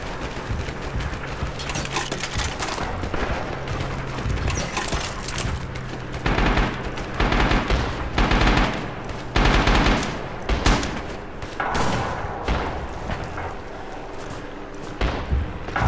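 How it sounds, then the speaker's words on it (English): Heavy gunfire on the Iwo Jima beaches in the Rising Storm war game: sustained machine-gun bursts and rifle shots mixed with thuds and booms, loud and continuous throughout with brief lulls. "Damn, they're shooting at us."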